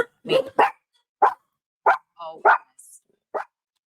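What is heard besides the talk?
dogs barking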